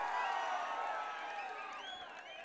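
Crowd cheering at an AIADMK political rally in Ambasamudram, a broad steady roar of many voices with scattered whistles, fairly distant and continuous.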